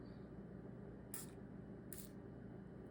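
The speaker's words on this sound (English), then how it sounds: "I'm gonna go ahead and spray this perfume" Two quick, short hisses of a perfume spray bottle about a second apart, over a steady low background hum.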